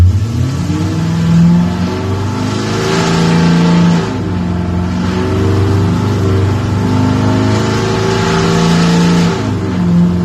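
A car engine revs hard in fifth gear during a power pull while breaking in the engine, a loud steady drone that rises in pitch, drops, and climbs again in repeated sweeps with no talking.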